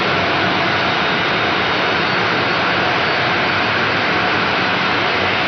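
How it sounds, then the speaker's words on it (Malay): Jet engines of a Boeing 737-82Z BBJ2 business jet roar in a loud, continuous, unvarying wash of noise, with no voices over it. "Yang di-Pertuan Agong ke-17 Sultan Ibrahim merupakan pesawat Boeing 737-82Z atau BBJ-2"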